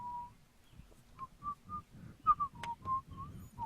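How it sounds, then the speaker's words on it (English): Someone whistles a faint, wavering tune in the background, with short rising and falling notes and breaks between them, over a low murmur of room noise. "Which is a terrible fucking whistling in the background."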